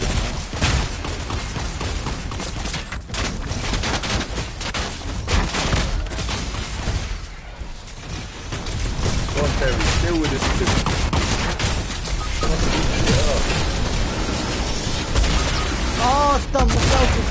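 Sniper and other gunfire in an online PS4 shooter, heard as dense, loud, continuous bursts of shots and booms throughout, with players talking over the constant fire.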